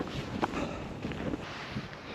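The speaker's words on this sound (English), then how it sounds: "I'm getting the full brunt of the wind chill when it's coming into my face rather than when it's hitting my back" Wind buffets the microphone on a snowy frozen lake, a faint, steady rushing noise with a few soft gusting bumps.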